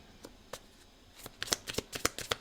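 Tarot cards being shuffled, a quiet close-up series of crisp riffling flicks that start sparse and then quicken into a rapid cluster.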